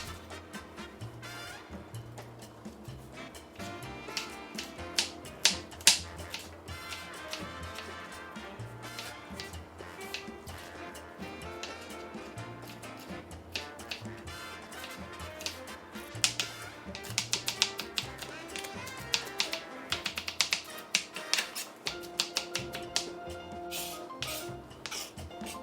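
A knife slices and dices an onion on a cutting board in a home kitchen, making a long run of light, rapid taps and chops over a faint, steady musical background.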